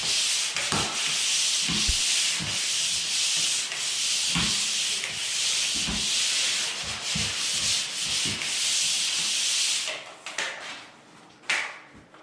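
Light, long sanding strokes along a drywall corner bead give a continuous close abrasive rasp with faint knocks, then it trails off into a few scattered scuffs near the end.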